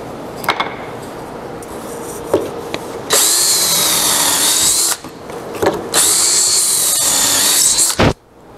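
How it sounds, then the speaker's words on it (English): A power drill boring pocket holes into the side of a wooden table frame piece, two sustained high whining bursts of about two seconds each with quieter handling noise between them. "They're drilled into the side like this."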